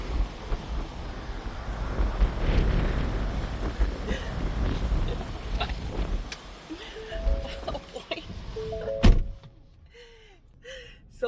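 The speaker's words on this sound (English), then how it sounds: "so that's what happens here in Waikoloa when the super windy conditions happen here in the island" Strong gusty wind in Waikoloa, Hawaii, roars and buffets the microphone for several seconds, then eases into a quieter stretch with a few brief tonal squeaks and a sharp knock near the end.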